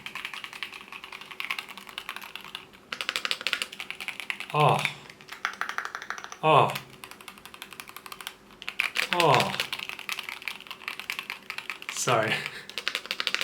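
Rapid clacking keystrokes on a Keychron K8 Hall Effect wireless keyboard, close and crisp, typed in quick bursts with short pauses while a voice briefly speaks.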